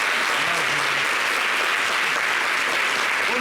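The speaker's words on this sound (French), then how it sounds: "ils n'ont qu'à applaudir pour moi d'abord." Audience clapping fills the space as a steady wash of applause, moderately loud and continuous throughout, with no individual voices standing out.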